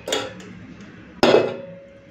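A lid is set on a cooking pot of mourala fish curry: a light clank, then a louder close metallic clunk that rings briefly before fading.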